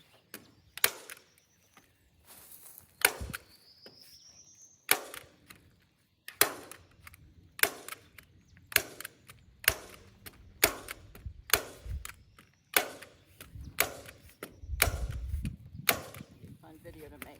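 Staple gun firing during a DIY greenhouse build, a series of sharp, close snaps at an uneven pace, with several quick clusters and quieter handling sounds between.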